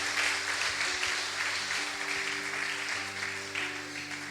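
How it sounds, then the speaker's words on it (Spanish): Applause from a church congregation, a steady wash of clapping over a low sustained organ or keyboard hum. "denle fuerte aplauso a Él"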